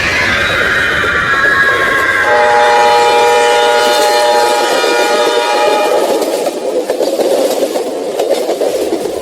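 Train running past in a horror story sound effect, a loud steady rumble with drawn-out squealing, horn-like tones through the middle that fade into a continuous rolling clatter, with no voices.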